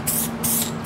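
Acrylic spray paint can hissing out in short close bursts, two or three pulses in quick succession with a steady bright spray sound and no talking.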